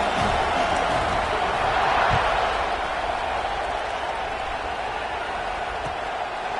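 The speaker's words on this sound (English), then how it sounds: "this crowd is buzzing after that last score" Football stadium crowd buzzing steadily after a score at an LSU game, a broad continuous roar at a fairly loud level that never drops out, with commentary voices faintly underneath.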